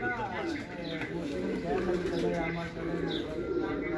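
Pigeons in a Lahore loft coo repeatedly in soft rolling calls, with a few brief chirps, while someone talks over them close by.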